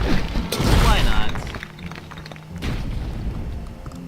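Cannons fire in American McGee's Grimm, giving deep booming blasts. A loud close boom with a rumbling tail comes first, and a second, softer thud follows a couple of seconds later, amid busy game sound and some talk.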